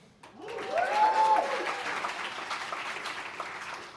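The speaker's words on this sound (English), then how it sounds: "just give them a little whoop or cheer" Crowd applause with whoops and cheers at a live young innovator awards ceremony, swelling quickly to a loud peak and then holding as steady clapping with a few shouts rising over it.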